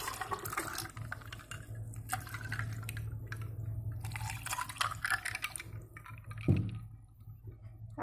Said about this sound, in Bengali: আর এখানে দেব ঠান্ডা জল।